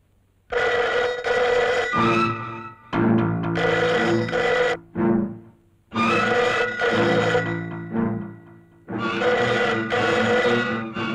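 Telephone bell ringing loudly in repeated long bursts separated by short pauses, close and alone, with no talking.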